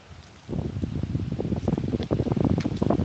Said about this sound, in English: You hear the wind gust in the trees.